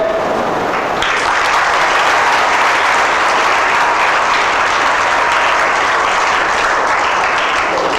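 Loud, sustained audience clapping welcoming a guest at an indoor cricket court inauguration, swelling after the first second into dense, continuous applause from a large gathering.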